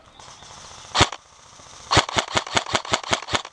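Gunfire in a shooting game: two sharp separate shots, then a rapid regular burst of about nine loud cracks, with a faint engine-like hum underneath.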